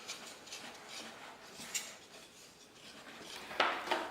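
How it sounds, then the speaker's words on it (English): Sourdough English muffin dough is stirred in a bowl, producing soft, faint scraping and rubbing with a few light clinks of the utensil against the side, growing slightly louder toward the end. "So just stir it until everything's incorporated, and it should start to form a soft ball of dough."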